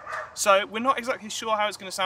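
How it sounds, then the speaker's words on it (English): Several dogs bark and yip in the background outdoors on a windy day, fairly faint and intermittent beneath a person talking continuously close to the microphone. "You can hear some dogs in the background as well."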